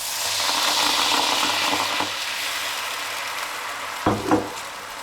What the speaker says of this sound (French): On remet la viande dans la poêle.